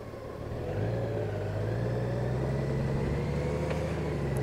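A Honda Gold Wing GL1800DA motorcycle cruising on the road, its smooth engine drone steady and close with a rising tone as it gently accelerates, accompanied by constant wind and road rumble.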